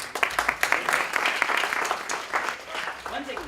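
A small audience gives a short round of hand clapping for a new speaker, with distinct individual claps audible in a brisk, uneven patter and some murmured voices underneath.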